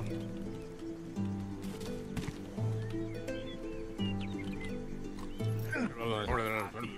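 A horse in the video game Rustler, rhythmic hoofbeats over game music and ambience, with a whinny-like cry near the end.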